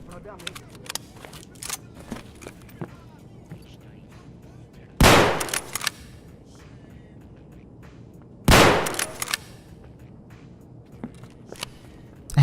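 Two loud, sharp 20-gauge shotgun blasts in a video game, a few seconds apart, each with a short decaying tail, over quiet background clicks and faint footsteps.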